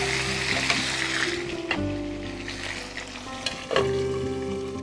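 Green chilli paste frying in a pan with a steady close sizzle and occasional stirring scrapes, continuous throughout with no talking.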